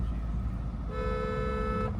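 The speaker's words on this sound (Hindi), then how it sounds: "अब देखो गाड़ी मेरी चल रही है सेकंड गियर में चल रही है।" Car engine idling low while driving in second gear, a steady rumble throughout, with a short horn toot sounding for about a second partway through.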